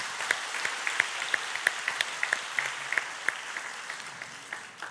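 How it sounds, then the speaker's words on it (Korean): Scattered, sparse clapping from a church congregation at a Friday service, individual claps fairly distinct and moderately faint, tapering off toward the end. "우리 청년들 한번 박수로 한번 격려해 주시면 어떨까요?"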